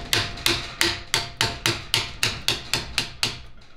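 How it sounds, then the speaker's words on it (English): Roughly eleven evenly spaced, sharp hammer taps ring out close up as a TH350C transmission cover is knocked loose from the case flange, each strike crisp and decaying quickly, with no talking. "And then just carefully, you know, smartly tap onto it until you can get clearance between the flange and the case."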